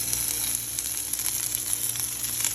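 Onions sizzle and fry steadily in a pan, a close, continuous crackling hiss with no pauses, just before green onion goes in for a meat dish with Chinese flavour.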